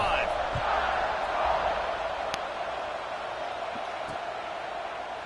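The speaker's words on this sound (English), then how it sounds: "this crowd is feeling themselves after that last drive" A dense, steady roar from a stadium crowd in a Madden football video game, heard at moderate loudness with a commentator talking over it and a couple of brief sharp sounds.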